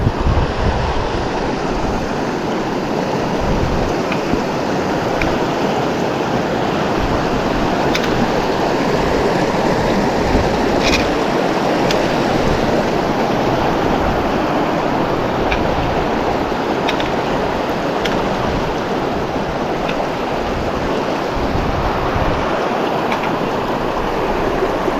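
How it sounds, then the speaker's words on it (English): A remote wilderness creek in Kakwa Provincial Park, British Columbia, rushes in a steady, loud, broadband roar throughout, mixed with gusting wind buffeting the microphone. "Now it's time to cross this creek."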